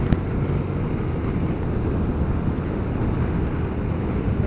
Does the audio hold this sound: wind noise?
yes